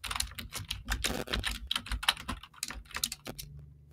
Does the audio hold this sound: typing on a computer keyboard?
yes